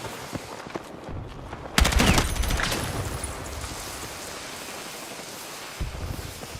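Burst of gunfire in a Battlefield 6 shooter match, a sudden loud volley of rapid shots around the two-second mark that trails into a sustained noisy rumble, with another sharp crack near the end.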